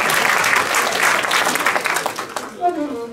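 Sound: audience applause at jazz concert

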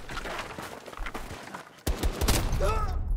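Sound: sniper rifle shot in video game Battlefield 2042

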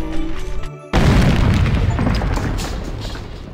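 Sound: floor explosion in video game Lucky Tower Ultimate

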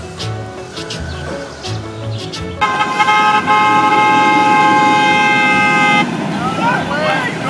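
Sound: car horn honking

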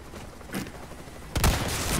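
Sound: gunshots in the video game Resident Evil 4 Remake

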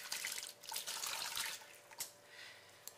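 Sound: liquid poured into a bowl for rainbow bagel dough

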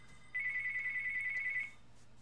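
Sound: phone call ringing in the video game Tomb Raider (2013)

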